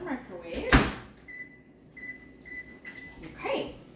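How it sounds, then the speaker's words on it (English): A microwave oven is heating brownies, with a sharp door thump near the start, then a low hum and repeated faint beeps over the running oven, and some talk. "I'm gonna stick this in the microwave between 60 and 90 seconds"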